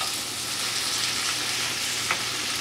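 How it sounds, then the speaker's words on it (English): Onions sweating in a pan for amatriciana sauce give off a steady, close sizzle, with a soft hiss that keeps up throughout and a brief stir or spatter near the end. "We're gonna make the onions sweat."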